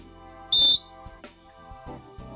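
A basketball referee blows a single sharp, loud whistle blast lasting about a quarter second, followed by faint scuffs and quiet movement.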